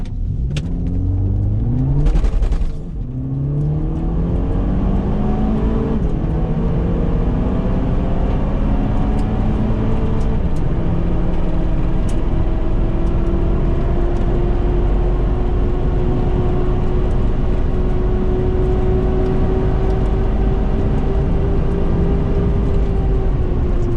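Bone-stock Volkswagen MK5 Golf GTI 3-door on a track run, its engine droning loud and steady with rising and falling pitch through gear changes and a brief dip near the start, no talking.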